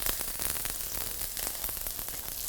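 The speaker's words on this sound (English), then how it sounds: "you want to hear a sizzle" Dense, steady crackling sizzle of onions frying in a hot pan for chow mein, close by and constant, with no talking.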